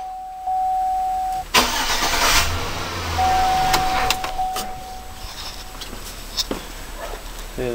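A Chevrolet Silverado truck engine cranks briefly and catches, idles loudly close by, then shuts off after a few seconds, during a power steering fluid flush with air in the pump; a steady high whine and clanks come before and after.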